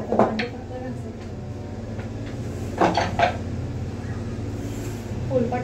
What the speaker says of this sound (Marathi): तर भांडी फक्त घासायची.